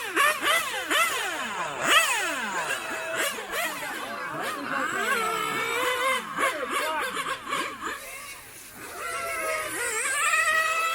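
Nitro RC race cars run during a two-minute pre-race warm-up session, their high-pitched engines revving and whining up and down continuously, several cars overlapping at a moderate distance.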